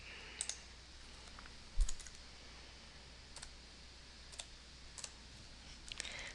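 Faint, sparse mouse clicks in SMS-CollisionWay body-shop billing software, a few soft isolated ticks scattered over a quiet hum with one slightly louder double click.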